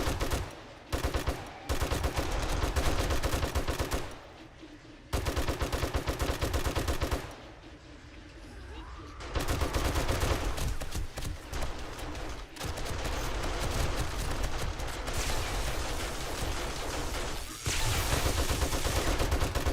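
Automated turrets in the video game 7 Days to Die fire armor-piercing rounds in long, loud rapid bursts, broken by a few short pauses, with no talking.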